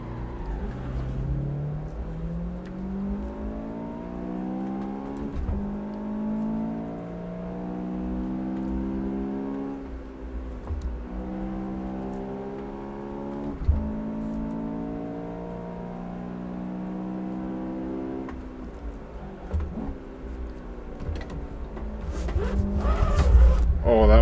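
A Honda Civic Type R in a driving game revs hard, its engine note rising and falling through gear changes before a brief tire squeal as the car snaps into oversteer, with people talking throughout.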